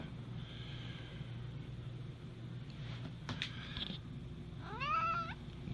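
A pet cat named Sweetie gives a few soft meows indoors, faint and brief, with a rising, wavering final call over a quiet room hum and no talking.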